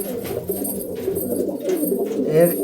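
A male Kalanka pigeon coos steadily right after release, its low rolling calls close and continuous, with faint other bird sounds around it.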